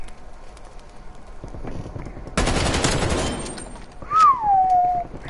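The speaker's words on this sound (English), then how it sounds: "I'm gonna shoot you in the neck" Video game gunfire: a loud, dense burst of rapid shots lasting about a second, followed by a sharp sweeping whistle-like effect.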